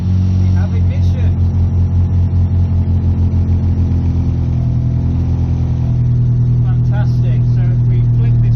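A Mazda MX-5 with a push-start ignition conversion idles steadily after starting, a low, even engine rumble running throughout at close range while a person talks over it.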